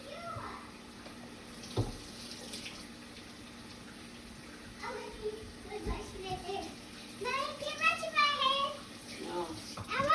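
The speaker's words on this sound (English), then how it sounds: "So I'll take my gloves off, wash my hands." A faucet runs steadily for hand washing after handling a pot roast in a home kitchen, a low continuous wash under a voice and other talk.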